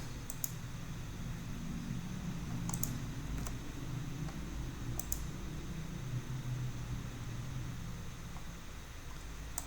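Soft computer keyboard typing and mouse clicks tap along steadily over a faint fan hum, with a few sharper clicks standing out, quiet and close, with no talking.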